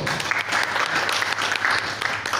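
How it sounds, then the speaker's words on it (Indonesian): Brief burst of audience clapping at an organization's working meeting, a dense, even patter of many hands filling the room for a couple of seconds. "Tepuk tangan dong."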